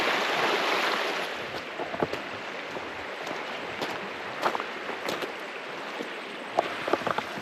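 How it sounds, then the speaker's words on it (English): A fast stream runs down off frosty hills near a cold lake camp, making a steady, broad rushing wash with a few brief splashy knocks, heard alone outdoors. "The stream is, or river is running really fast down off these hills."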